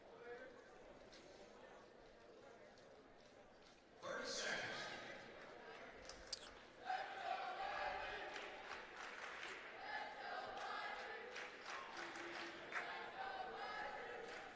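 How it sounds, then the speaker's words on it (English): School fans cheer from across the gym at a wrestling conference championship, a steady crowd roar that swells sharply partway through and stays loud, with an announcer talking over it. "Can hear them cheering on their teammates"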